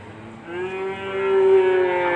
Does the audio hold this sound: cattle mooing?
yes